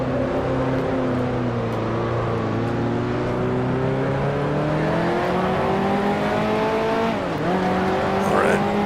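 A 1955 Formula One race car in the Grand Prix Legends racing game at the Argentine Grand Prix, its loud continuous engine drone falling in pitch, then a sharp dip and rise as it downshifts into second gear, with faint tire noise.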